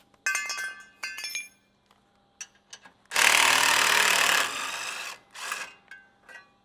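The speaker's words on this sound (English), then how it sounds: "These are gonna slide out of the frame." Metal brackets slide out of a third-generation Toyota Tacoma frame, giving bright clinks and scraping rattles in short bursts, then a longer grinding slide, nearby with no talk.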